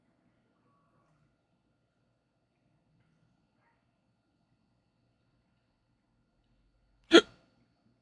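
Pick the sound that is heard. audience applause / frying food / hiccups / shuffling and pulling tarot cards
hiccups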